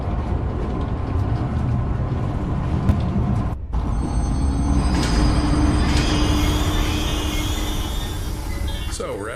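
Train in the video game Zoochosis rumbling steadily along the track, with clanking mechanisms and a squealing wheel tone rising midway, loud and close, with a brief dropout near the start.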